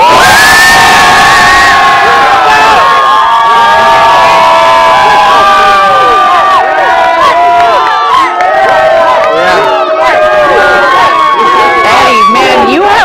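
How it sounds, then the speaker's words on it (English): A large crowd of Blue Origin employees and families cheers at the New Glenn rocket's maiden launch, loud overlapping shouts, whoops and screams filling the air continuously. "Quite the crowd down there"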